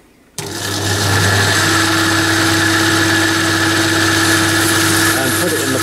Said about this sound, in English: And then you can start the lathe.